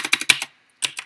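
Quick keystrokes on a computer keyboard, about six close clicks in a rapid run, a short pause, then a few more taps.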